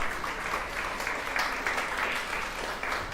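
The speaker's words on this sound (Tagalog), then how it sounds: "palakpakan po natin si Jesus" A church congregation claps during a worship service, steady sustained applause from a crowd, moderately loud and without speech.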